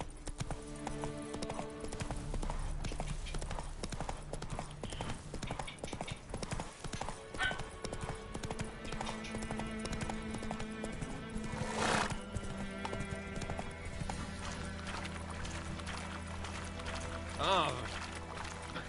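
Roach, the horse in The Witcher 3: Wild Hunt game, gallops with rapid, steady hoofbeats and gives a neigh partway through, while a voice talks over the running hooves.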